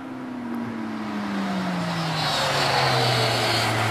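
Car at speed on the Nürburgring, loud and close, its engine note sliding steadily downward in pitch as it passes and recedes, with a buzzing motorbike-like tone.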